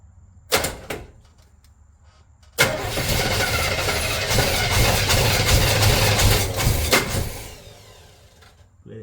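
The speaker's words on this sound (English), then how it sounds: "I'm going to try to hit the starter so I can watch this spark plug" An Avanti car engine cranks on its starter, with a brief burst near the start, a pause, then several seconds of loud, steady churning close by that fades out toward the end. No one speaks.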